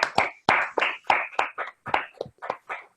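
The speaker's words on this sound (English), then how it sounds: "if you could briefly unmute your microphones and give Saurabh a nice round of applause" Applause from attendees of an online PhD defense clapping over unmuted video call microphones, coming through as about ten choppy, separate bursts with brief silent gaps between them.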